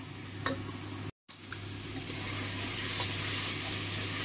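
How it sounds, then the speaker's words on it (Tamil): Masala for prawn biryani is stirred as it fries in a pan, with a soft sizzle, occasional scrapes and a brief gap before the hiss grows steadier and fuller. "மசாலா நல்லா கிளறி விடுவோம்"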